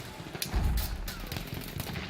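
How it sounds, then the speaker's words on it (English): Gunfire in the video game Battlefield 1: a few thumping shots and bursts crack out in quick, uneven succession at moderate volume over steady low rumble. "Oh, I'm getting shot at."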